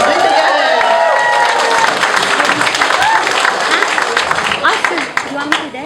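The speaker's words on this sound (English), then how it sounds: "I think we need more applause. One more time." Applause and cheering for a retired sergeant at a retirement party, a loud sustained crowd clapping with whoops and voices mixed in, thinning slightly toward the end.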